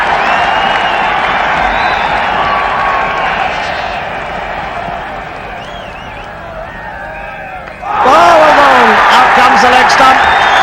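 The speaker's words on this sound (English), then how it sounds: "Crowd are going absolutely mad, the Indian camp over on the far side." A stadium crowd at the 1983 Cricket World Cup final between India and England roars and cheers throughout, swelling into a much louder, sharper eruption of whoops and shouts near the end, with broadcast commentary running underneath.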